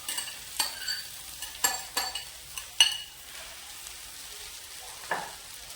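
Vegetables and boiled potato being stirred together for instant semolina idli, giving a few scattered scraping and clinking spoon strokes against the pan, close by and moderately loud, with quiet gaps between strokes.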